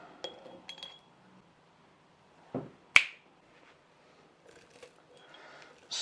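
Red onions packed into a glass jar for BBQ pickling: sparse, quiet clinks and knocks of onion pieces against glass, with one sharp bright chink standing out amid light handling noise.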